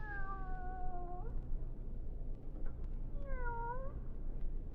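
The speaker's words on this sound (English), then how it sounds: "Will you listen, Kitty?" A cat in a radio drama gives two drawn-out meows a couple of seconds apart, moderately close, over a steady low background hiss.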